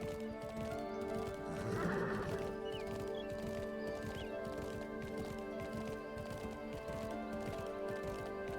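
A horse in the medieval fantasy life-sim game Mirthwood neighs once in a clear whinny amid steady clip-clop hoofbeats, heard quietly against a faint game background.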